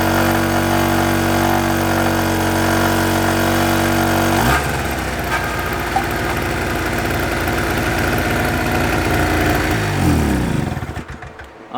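A 2-stroke generator runs under load, a loud, close, buzzing engine drone that shifts abruptly to a rougher, choppier beat partway through before cutting out at the end.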